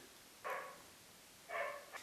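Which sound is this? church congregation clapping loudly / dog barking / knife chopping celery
dog barking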